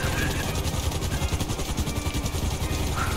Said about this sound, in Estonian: See on helikopter.